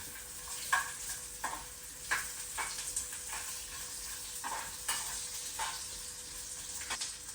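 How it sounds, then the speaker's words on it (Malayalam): Elephant garlic and ginger sautéing in a pan for a Kerala-style roasted lamb curry, a steady soft sizzle broken by repeated scraping stirs of a spatula every half second or so, close and fairly quiet. "രണ്ട് എലിഫൻ ഗാർലിക്കും അതുപോലെ തന്നെ രണ്ട് ഗ്രാം ജിഞ്ചറും ആഡ് ചെയ്തിട്ടുണ്ട് എന്നിട്ട് നല്ലപോലെ വഴറ്റുക"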